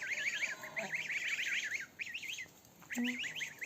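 A village goose that has adopted four goslings gives two brief low honks amid the goslings' constant high, wavering peeping, all fairly faint.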